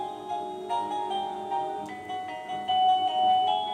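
A MECO wireless doorbell chime plays Twinkle, Twinkle, Little Star slowly, note by note, clear and close with no voices.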